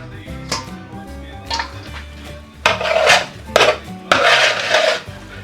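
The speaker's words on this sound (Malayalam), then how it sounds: "ആദ്യം കുറച്ച് ചോറൊന്ന് കോരി മാറ്റാം." A spoon scoops cooked rice from a pot while beef dum biryani is layered in a Kerala-style kitchen, giving several distinct metallic scrapes and clanks of utensil on pot at irregular intervals, fairly close.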